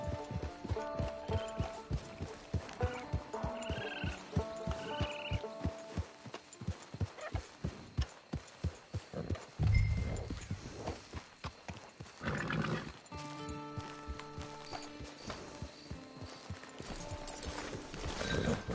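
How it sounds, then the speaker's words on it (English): Horse hooves clip-clopping in the video game Red Dead Redemption 2 Online, a long steady rhythm of hoof beats with a brief whinny midway and soft background game sounds. "Get your horse."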